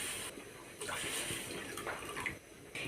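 Water runs steadily into a vessel in short pours, two cups measured out for bael leaf and black pepper tea, close and continuous with brief pauses between streams.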